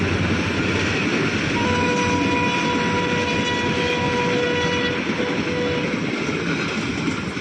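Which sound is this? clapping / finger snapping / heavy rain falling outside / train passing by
train passing by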